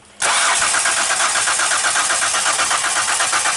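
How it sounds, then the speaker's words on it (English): A 2005 Ford Escape with a crank-but-no-start fault, its engine turning over under the starter in a loud, steady, pulsing churn that kicks in abruptly and runs without stopping. "I'm gonna crank the engine"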